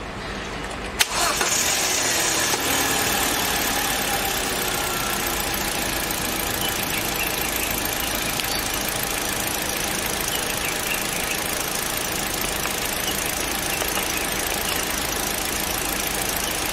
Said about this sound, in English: Now I'm gonna start the engine.